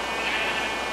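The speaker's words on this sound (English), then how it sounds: "Let me kill the sheep." A single sheep bleats in the Minecraft video game, one short wavering cry lasting about a second, clear and up close.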